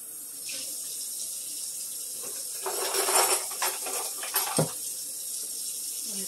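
Hot water runs from a tap into a sink for a few seconds, splashing steadily over a constant hum, then cuts off with a clink.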